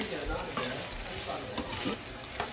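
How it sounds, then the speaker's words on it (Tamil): Onions sautéing for nasi goreng sizzle steadily in a pan while a spoon scrapes and stirs through them in short repeated strokes, close by with no voices. "வெங்காயம் லைட்டாக வதங்கி வந்த அப்புறம் முதல் பொரிச்சு வதக்கின வெங்காயத்தையும் போட்டுட்டு"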